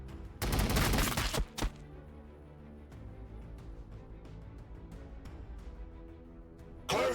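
Heavy volley of gunfire from Warhammer 40k Battlesector, a loud dense burst of shots lasting about a second, a short follow-up shot, then a low rumbling battle ambience with scattered faint pops and another loud blast at the end.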